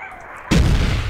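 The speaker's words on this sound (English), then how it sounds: "6 bolter shots seems to take down a Chaos Marine." Bolter gunfire in the video game Warhammer 40,000: Chaos Gate: after a brief quiet lead-in, a single loud, sudden blast erupts and rumbles on through the rest of the clip.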